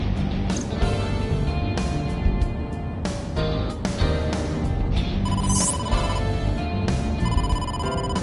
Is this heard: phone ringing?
yes